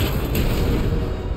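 A loud, sustained rumbling boom with a noisy wash, an explosion in the video game Knack, filling the short clip with no talk.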